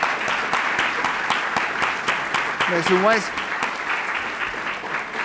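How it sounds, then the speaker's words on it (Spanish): Audience applause for a teacher at a social creativity event in Bogotá, steady dense clapping throughout, with a voice talking over it briefly. "Cami está pidiendo un aplauso para la profe Diana"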